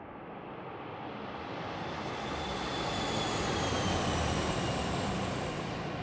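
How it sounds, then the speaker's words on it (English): A Challenger 650 business jet in X-Plane 11 makes a flyby: a broad, roaring engine rush that swells gradually and holds steady at its peak without fading, with no talking. "One more flyby."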